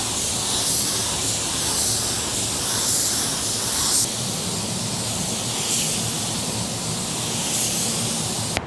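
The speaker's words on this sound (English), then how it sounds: "We sprayed it on wet." A spray gun mists blending solvent onto fresh car paint in a continuous, even hiss that holds steady for the whole stretch, with no voices over it.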